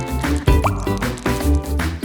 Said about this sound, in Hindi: पानी अच्छे से डालो,